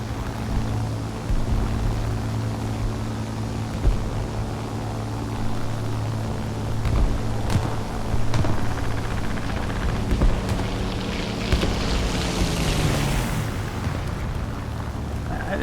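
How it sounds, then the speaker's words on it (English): Enemy aircraft fly low in a combat flight video game, a continuous deep droning engine rumble with a rising whooshing sweep near the end, heard alone without talk. "a couple of enemy aircraft down low"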